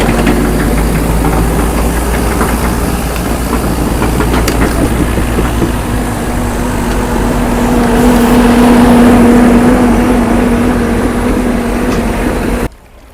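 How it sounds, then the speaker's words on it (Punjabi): Loud, continuous rumble of heavy diesel engines running close by as an excavator pushes a tractor near the flooded Sutlej River, with a rough knocking drone that swells slightly midway. "ਐਕਸਕਾਵੇਟਰ ਦੇ ਨਾਲ ਧੱਕਾ ਲਾ ਕੇ ਟਰੈਕਟਰ ਨੂੰ"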